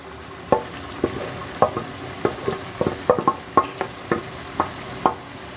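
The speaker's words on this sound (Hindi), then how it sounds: "वेजिटेबल को डाल दिया है और डाल के इसको हम आहिस्ता आहिस्ता भुनेंगे" Finely chopped cabbage, peas and carrots are slowly stir-fried in a pan for Chinese-style vegetable fried rice, with a soft sizzle under regular spatula scrapes and taps, about a dozen sharp knocks in an uneven rhythm and no talking.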